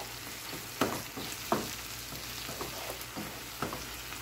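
Food sizzles and sautés in a pan for a Filipino home meal, a soft, steady crackle with a few sharper stirring scrapes and pops rising above it, fairly quiet and with no voices.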